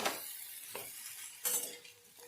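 Spices being mixed into a dry brinjal sabzi in a pan, with a few soft scrapes and clinks of a utensil over a light sizzle, close and fairly quiet.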